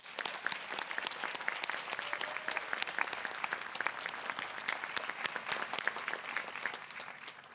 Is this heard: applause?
yes